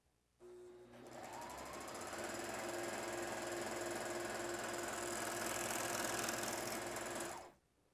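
A Juki MO-1000 serger stitches two layers of lightweight jersey, starting after a moment of quiet and running at a fast, steady mechanical whir for about seven seconds before stopping abruptly, close and alone.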